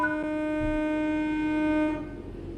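In Train Sim World 4, a train pulls away with a steady layered electric motor whine over a low rumble. The whine fades out after about two seconds.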